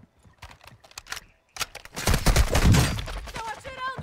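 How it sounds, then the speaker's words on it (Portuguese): Gunfire in the shooter game Warzone 2.0 breaks out after a quiet start, with dense, loud rapid bursts layered over other game sounds. "Estão atirando em mim!"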